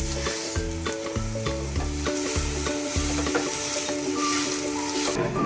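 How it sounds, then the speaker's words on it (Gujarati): Dates roast in hot ghee in a pan for a sugar-free date and dry-fruit roll, giving a steady sizzle with spatula stirring, partly under background music. "હવે ઘી ગરમ થાય પછી તેમાં ખજૂર નાખીશું. હવે તેને નરમ થાય ત્યાં સુધી શેકીશું."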